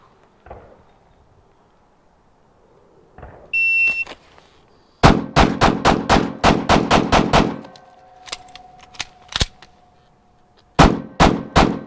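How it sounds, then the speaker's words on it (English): Rapid bursts of gunfire during a live shooting run at targets on a defensive training range, a tight string of sharp, loud cracks followed by a few scattered shots and a final quick pair after a pause. "All solid, clean shots"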